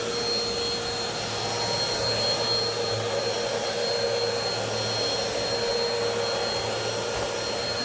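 A BISSELL Swivel Pet vacuum cleaner runs continuously at close range, a loud steady motor whine and airy suction roar with a faint tonal hum that stays unchanged throughout.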